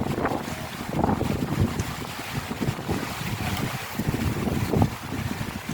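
Strong wind buffeting the microphone in gusty rumbling bursts on the shore of Laguna de Bay, with water lapping faintly underneath and no voices.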